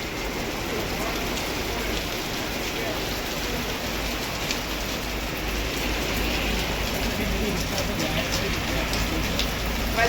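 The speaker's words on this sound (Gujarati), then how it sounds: "વીજળી એવી થાય પવન એવો અને વરસાદ જોરદાર પડી ગયો" Heavy rain pours down at night in Sanand, a steady, dense hiss of water drumming on surfaces that fills the whole stretch without a break.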